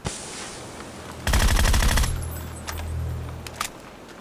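Rapid automatic gunfire rattles in a battle royale video game, a dense burst lasting under a second, followed by fainter scattered shots and metallic clinks.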